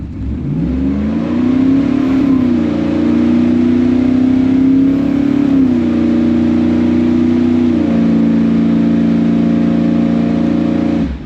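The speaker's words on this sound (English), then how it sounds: "I'm just going to let off the brake and mash the gas" An LS V8 car with a single- or dual-plane intake launches off the brake at full throttle, its loud engine note climbing steadily with brief dips at gear shifts, close and continuous throughout.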